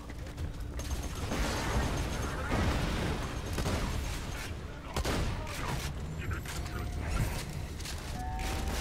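Gunfire fills a Borderlands 2 firefight, with dense, continuous shooting and clanking mechanical noise throughout. A voice talks over part of it.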